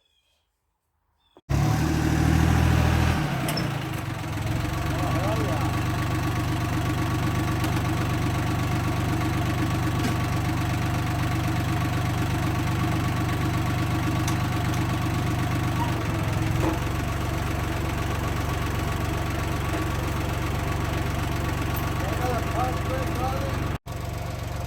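A Yanmar YM186D tractor's diesel engine starts up and runs steadily on a test drive after brake replacement, its loud, even chugging continuing throughout with a slight change in tone midway.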